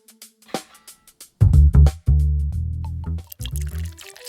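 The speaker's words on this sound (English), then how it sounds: "We begin by pouring warm 25 degrees Celsius water into a stand mixer bowl." Warm water poured into a stand mixer bowl while making pizza dough, heard as a close, gurgling stream that starts in short splashes and then runs steadily with a rising, filling tone.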